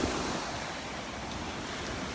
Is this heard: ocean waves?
yes